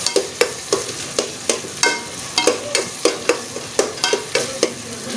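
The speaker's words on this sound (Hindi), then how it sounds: "इसको भी थोड़ी देर भूनना है, घी वाली साइड पे डालना है कि ये इधर ये फ्राई हो जाए थोड़ा सा।" Garlic and ginger paste frying in ghee in a pan while masala bhindi is cooked, with steady sizzling and regular, close, fairly loud stirring scrapes roughly twice a second.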